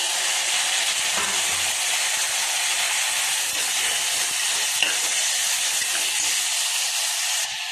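Chopped tomatoes for a vegetable biryani sizzle and fry in a hot pan, a steady loud hiss with faint scraping as they are stirred, no talking over it.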